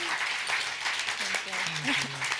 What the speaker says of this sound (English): give a very, very warm round of applause for Yassmin and Alison